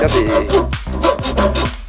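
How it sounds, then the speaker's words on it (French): Rhythmic back-and-forth rasping of a hacksaw cutting notches into wood, with about seven quick strokes in steady succession, close and fairly loud. "pour faire ces rainures, je vais prendre la scie à métaux"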